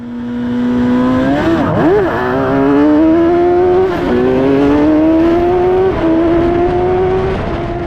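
An F1000 race car engine held near 10,000 rpm at the start, then the clutch drops and it pulls away. The loud, close engine note dips briefly, then climbs steadily through the gears in long rising sweeps.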